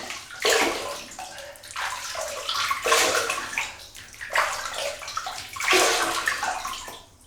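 Water splashes and sloshes in repeated close bursts as hands scoop it onto the face before lathering with Lider Classic shaving cream, a rhythmic wet spattering over a running tap.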